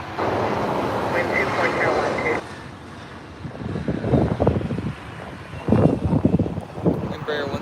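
An Embraer 175 airliner lands on runway 24R at LAX. A broad jet roar comes through with gusty wind buffeting the microphone, easing off, then swelling again in uneven surges.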